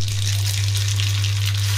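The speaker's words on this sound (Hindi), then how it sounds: "ऑयल हमारा गर्म हो गया है, अब इसमें राई डाल देंगे" Mustard seeds drop into hot oil for a tadka while making suji dhokla, giving a steady close sizzle and crackle with a low hum beneath, no talking.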